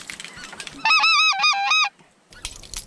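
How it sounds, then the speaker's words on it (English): Several geese honk loudly in a quick burst of nasal calls during a goose hunt, close by, with a few scattered faint clicks and rustles around them. "Look at the geese."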